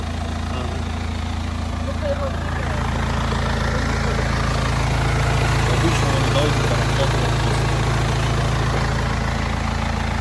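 A BMW's engine idles quietly and steadily just after starting, a constant low rumble throughout, with someone speaking briefly over it.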